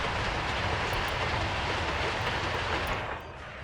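Trains rolling along rails in a railroad simulation game, a steady continuous rumble that holds even throughout before easing off slightly at the very end, with no voices.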